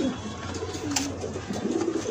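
A pet pigeon from a collector's loft coos in soft, low repeated phrases, close and clear over faint background noise.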